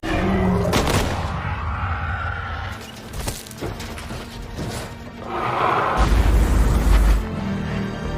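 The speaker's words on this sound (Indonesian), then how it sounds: "Lisa menghabisi sang Ratu Semut hingga meledak bersama mobil mereka" A giant mutant ant queen blows up together with a car in a monster film, a loud booming blast with crashing debris that swells again near the end over a dense, rumbling movie soundtrack.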